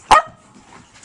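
A dog gives a single sharp bark up close, followed by quiet background.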